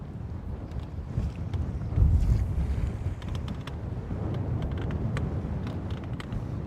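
A crosswind buffets the microphone on a boat in a steady, low roaring rush that swells in a stronger gust about a third of the way through, with no talking.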